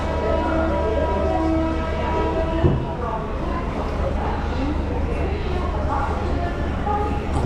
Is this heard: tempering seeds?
no